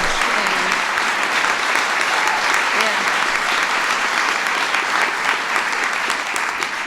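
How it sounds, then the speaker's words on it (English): Sustained, dense audience applause at the White House, loud and steady throughout with no break, a broad crowd of clapping hands filling the room. "Let's give Chris a round of applause for her courage"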